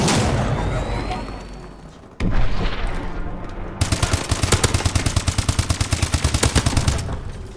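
Royalty AK47 gunfire in Call of Duty: Advanced Warfare, heard as rough gunfire and noise, a short pause, then a long, loud burst of rapid evenly spaced automatic shots.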